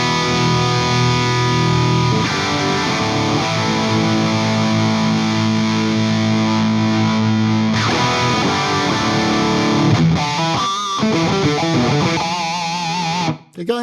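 Distorted electric guitar plays through an ENGL Fireball amp with an impulse response loaded: sustained, buzzy chords ring out, then shift to choppier riffing near the end, loud and alone.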